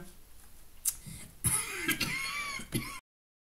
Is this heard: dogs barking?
no